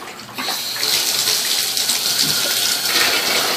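Cold water gushes steadily from a tap into a foot spa, a continuous close splashing rush that starts abruptly after a brief quiet moment.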